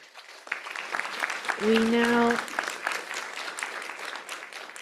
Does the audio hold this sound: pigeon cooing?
no